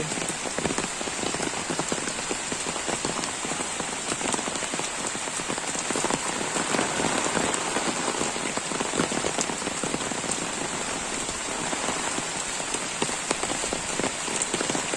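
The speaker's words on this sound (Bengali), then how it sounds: "এখনও অজোর ধারায় বৃষ্টি ঝরেই যাচ্ছে" Heavy storm rain pours steadily, a dense, constant hiss of drops drumming on surfaces with no break for the whole stretch.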